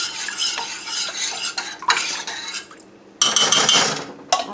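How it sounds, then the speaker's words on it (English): A spoon stirs a creamy chicken and dumplings mixture in a pot, scraping and clinking against the sides in close, lively bursts with a brief pause before the stirring resumes. "just stir that in"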